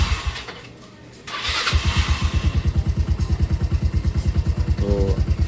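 A Yamaha Mio Sporty motorcycle is started after a short quiet pause, and its engine catches at once and settles into a close, steady, pulsing idle.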